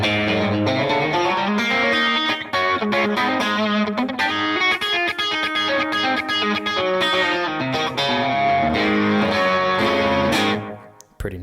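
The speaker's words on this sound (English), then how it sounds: "We get a pretty nice sort of a tape echo slap here," Guitar played through a Line 6 Echo Park pedal set for a short analog-style tape echo slap, dense distorted tones with quick repeats, loud and continuous for about ten seconds before cutting off.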